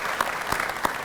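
Applause from a crowd at a recreation and fitness center dedication ceremony, a steady wash of clapping across the whole second with a few sharper, louder claps standing out.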